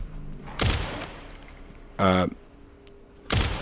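Two sharp pistol shots from the Resident Evil 9 Requiem video game, fired about three seconds apart as loud broadband cracks, with a short harsh mechanical rattle between them; no talking.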